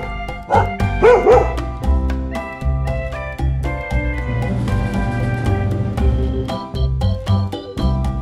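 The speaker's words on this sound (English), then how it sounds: "The dog goes." A dog barks and yips a few times in a children's animal-sounds song, the sharp calls standing out near the start over a loud, continuous musical backing.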